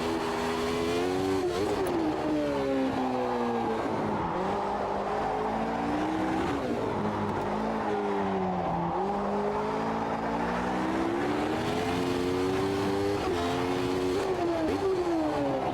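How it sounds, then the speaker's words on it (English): A 1990s Formula 1 car in the Automobilista 2 racing game screams through gears while sliding, its high engine note rising and falling repeatedly with sharp shifts, loud and continuous, no voices. "Hard to talk while sliding a Formula 1 car from the 90s."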